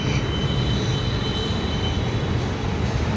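A Kochi Metro train runs past near Jawaharlal Nehru Stadium station, a loud, steady rumble of wheels and motors that holds evenly throughout with no talk.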